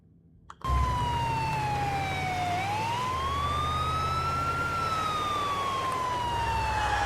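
Ambulance siren in a video game, a loud continuous wail that sweeps down, up, and down again in pitch over an engine hum, starting abruptly after a brief quiet moment and running steadily to the end.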